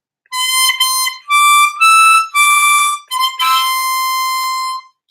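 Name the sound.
melody phrase blown and drawn through holes 7 and 8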